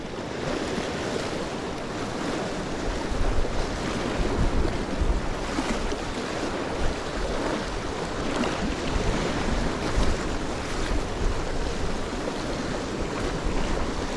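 Steady breezy wind gusting at the shallow water's edge at night during bass lure fishing, with broad rushing noise and small lapping waves close by, continuous throughout with no talk.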